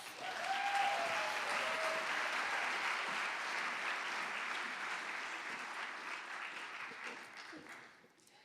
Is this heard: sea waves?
no